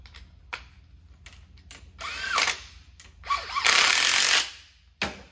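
A power tool runs stainless steel ARP bolts into a Turbo 400 transmission case, several short whirring bursts of rising intensity with a longer run near the end and a final quick burst.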